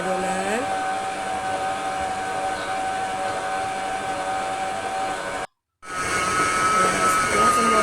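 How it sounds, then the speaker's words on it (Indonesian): A stand mixer kneads pizza dough with butter worked in, a steady motorized whine with a tonal hum running continuously, broken by a brief silent gap near the end before the motor resumes. "lalu kita mixer lagi sampai mentega tercampur dengan adonan."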